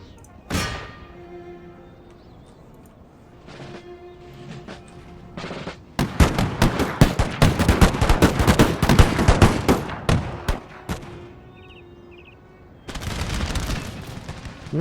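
Artillery and musket fire from a Napoleonic-era battle in the Empire: Total War video game: scattered distant booms, then a dense crackling fusillade of rapid shots, a lull, and another burst of volleys.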